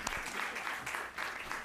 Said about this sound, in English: I hope you all will give them a round of applause.